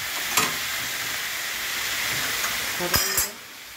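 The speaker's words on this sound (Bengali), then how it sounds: "এই ঢাকা দিয়ে দিচ্ছি" A low sizzle of food frying in a cooking pan runs steadily, with a metallic clink near the start and a sharper clatter of a lid being set on the pan toward the end.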